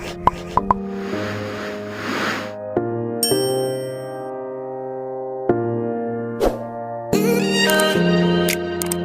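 Several bright bell-like dings and chimes ring out one after another, each with a long ringing decay and some overlapping, loud and close with no one talking.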